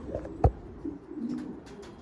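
Racing pigeons on a rooftop loft cooing softly, a few low murmuring coos close by with a single sharp knock or flap early on, quiet overall.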